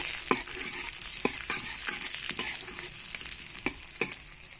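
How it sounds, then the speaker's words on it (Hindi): Onion and capsicum frying in ghee, a steady close sizzle punctuated by several sharp spatula scrapes and taps as the vegetables are stirred, with no voices. "हल्का सा भूनेंगे प्याज और शिमला मिर्च को।"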